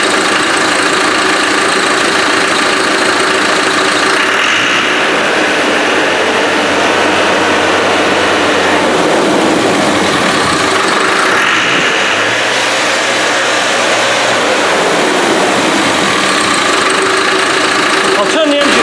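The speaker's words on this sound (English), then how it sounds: "I'll turn the engine off" Engine of a Land Rover 110 under repair, running steadily with a loud mechanical rumble and noisy background, varying slightly in load, no talk over it.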